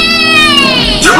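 Cat bug creature from a Spyro video game meowing, a short bright whining mew with sliding harmonics, loud and close, over game background audio.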